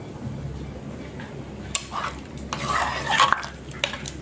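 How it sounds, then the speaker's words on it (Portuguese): Garlic browning in a pan for a simple vegetable soup, with a soft steady sizzle beneath metallic stirring scrapes and utensil clinks against the pan. "Eu estou dourando aqui o alho."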